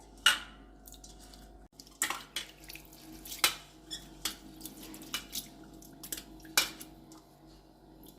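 Lentils (dal) being rinsed and rubbed in water in a kitchen pot: irregular splashy clinks and drips, with a few sharper knocks scattered across the stretch, close and moderately quiet, with no talking.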